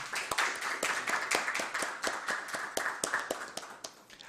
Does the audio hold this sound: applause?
yes